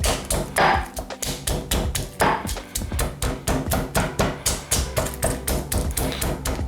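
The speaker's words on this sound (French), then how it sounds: "Et ensuite, il suffit d'écraser au mortier." Garlic cloves and chili peppers are pounded in a mortar with a pestle, giving a fast, steady series of close, loud thumping knocks with no pauses and no talk.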